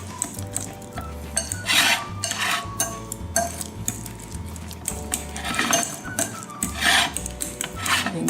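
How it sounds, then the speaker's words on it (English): A spoon stirs and mashes avocado deviled egg filling in a bowl, giving repeated metallic clinks and scrapes in an uneven rhythm, close and fairly loud. "then I'm going to use the spoon to mix it real good"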